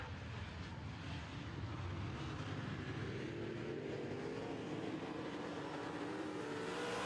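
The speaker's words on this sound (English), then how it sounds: "Now they go down the back straightaway. Look at the horsepower here. It is a drag race into turn three." Modified race cars on an oval track roar down the back straightaway at full throttle, a dense, steady engine drone that stays loud and constant throughout.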